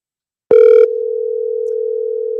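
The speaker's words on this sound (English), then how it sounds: "So typically I will call her again" A telephone call rings out on the line: a short, loud burst of tone with harmonics, then a long steady single tone holding at even level, with no voices.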